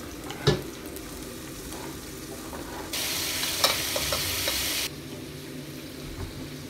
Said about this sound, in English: Then I fry the veggies.